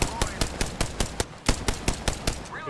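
Automatic weapon fire from the video game Apex Legends, a steady run of about a dozen sharp, evenly spaced shots, loud and close, with no talk over it.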